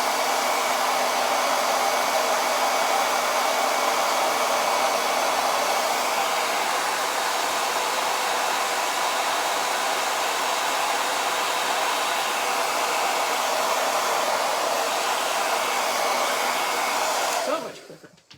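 A hair dryer blows steadily and loudly on a 9x12 painting board to dry its surface, a continuous broadband whoosh held close for about seventeen seconds before it cuts off abruptly.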